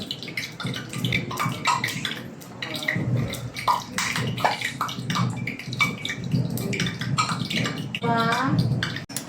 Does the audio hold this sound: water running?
yes